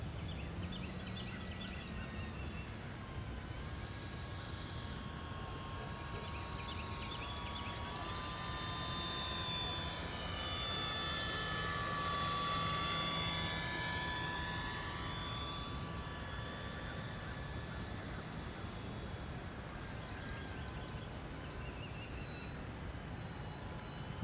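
An E-flite Timber 1.5m radio-controlled airplane with flaps flies slowly overhead, its electric motor a steady whining drone that swells as it passes near and fades again, heard alone.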